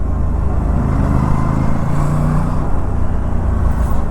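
Steady roadside traffic on a Sunday afternoon, with cars passing close by in a continuous loud low rumble of engines and tyres and no pause between vehicles.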